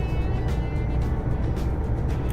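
A Scania truck in Euro Truck Simulator 2 cruises along, a steady low engine drone with road rumble, moderately loud and continuous with no talking.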